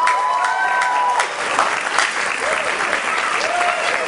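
Audience at the 2012 World Salsa Championship applauding steadily and loudly from start to finish, a dense wash of clapping with a few whistles and cheers rising over it.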